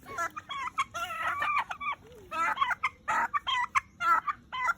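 Chickens cluck and squawk in quick, choppy bursts close by, several birds calling over one another with brief pauses between.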